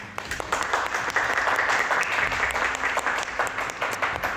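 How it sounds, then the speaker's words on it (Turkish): A studio audience and crew applaud the contestants on a televised cooking competition, a full, steady wash of clapping with sharper individual claps standing out, heard on its own without talk. "Ekip alkışlıyoruz kızları"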